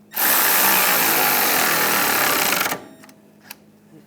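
A power tool spins a 15mm socket to tighten the rear sway bar link nut on a 2009-2017 Volkswagen Tiguan, running loud and steady for close to three seconds before cutting off, followed by a couple of faint clicks.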